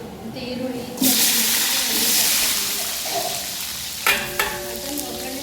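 Onions sizzling in hot oil with cinnamon, clove and cardamom tempering for a country-style mutton meal, a loud steady fry that flares up after the first second, with a brief voice and clatter near the end.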